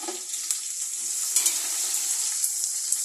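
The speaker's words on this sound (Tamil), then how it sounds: "வெங்காயம் நல்லா ஃப்ரை ஆயிடுச்சு. இப்போ கொத்தமல்லி கொஞ்சம் போட்டு" Onions frying with coriander in a pan for chicken biryani, a steady close sizzle and crackle with a few small spatters and stirring scrapes.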